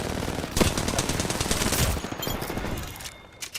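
Rapid automatic gunfire bursts in Apex Legends, a loud rattling fusillade filling most of the moment before tapering off near the end.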